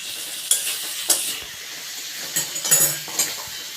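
Chicken curry frying in a pan over a medium flame as potato pieces are added, with several bursts of stirring and scraping over a steady sizzle, close and alone.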